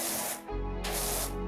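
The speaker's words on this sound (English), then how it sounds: "The water spraying sound on those monitors?" Water sprays in two bursts with a short pause between them, a steady hiss heard close and alone.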